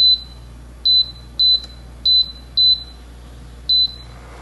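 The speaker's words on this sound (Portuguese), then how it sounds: "bora lá ligar aqui o nosso fogão" A kitchen stove is switched on while a macadamia cake filling is being made, giving six short, high, bright beeps at a close, loud level with small gaps between them and no talking.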